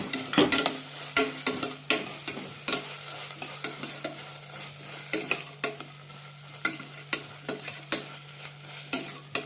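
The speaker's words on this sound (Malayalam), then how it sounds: "നന്നായി മിക്സ് ചെയ്യാം." A spoon stirs tomato masala with mint and coriander in a hot pan for Ambur kuska biryani, with repeated clattering scrapes over a constant sizzle and a steady low hum, close and with no talk.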